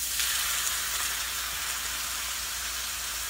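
Squid fries in a hot pan with a steady, close hiss and sizzle that stays even throughout, and no one speaks over it.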